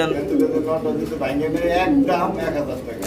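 Racer pigeons cooing at a pigeon farm, soft repeated coos rising and falling under someone talking throughout.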